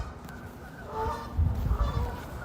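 Geese honk repeatedly at mid distance outdoors, a noisy cluster of calls that grows busier partway through over steady background rumble.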